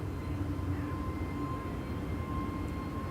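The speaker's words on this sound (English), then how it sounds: "This is a KLM A321neo that for some reason I am not seeing here on flight radar." A KLM Airbus A321neo jet on takeoff from the Polderbaan runway at Amsterdam Schiphol gives a steady mid-distance rumble with a faint thin whine running through it, with no speech.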